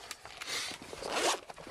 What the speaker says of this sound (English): In the zipper case, it's always fun to do with one hand.